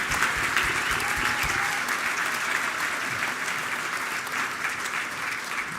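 Sustained audience applause at a diocesan church convention, dense steady clapping from a large crowd filling the whole stretch without pause, no voices on top.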